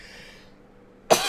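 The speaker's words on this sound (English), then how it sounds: "I just smoked more of this reefer, and thus I have to cough" One sharp, close cough from a man who has just smoked cannabis, coming abruptly at the end after a near-silent pause.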